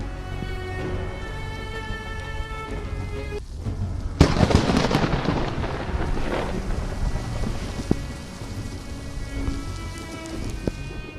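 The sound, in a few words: thunder after lightning strike in storm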